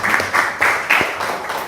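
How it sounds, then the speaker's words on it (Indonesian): Brief burst of applause from participants in a classroom teacher-training session, a few loose claps swelling and fading over under two seconds at moderate loudness. "Oke, tepuk tangan ya"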